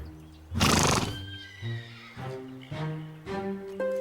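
A frightened horse in a French cartoon whinnies loudly in one long shrill neigh, followed by several shorter, fainter whinnies and snorts, with no speech.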